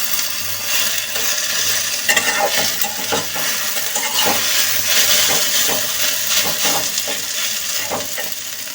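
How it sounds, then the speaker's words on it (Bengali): Okra fry being stirred in a hot pan with fish nearby, a continuous close sizzle broken by repeated scraping and clinking strokes of a spoon against the pan, no talking. "ঢেঁড়স ভাজিটা আর একটু নাড়াচাড়া দিয়ে দিই।"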